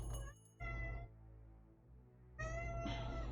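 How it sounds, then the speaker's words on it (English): A pet cat lets out loud, drawn-out meows, two strong calls near the start and another sustained cry toward the end, close to the microphone and separated by a quieter pause. "And that's my cat being very loud."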